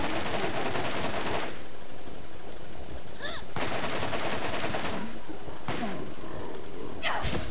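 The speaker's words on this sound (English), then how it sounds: "Shotgun." Gunfire in the Borderlands video game, several loud blasts with long crackling tails that fill the clip, separated by brief quieter gaps.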